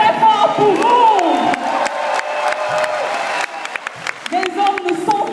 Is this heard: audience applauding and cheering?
yes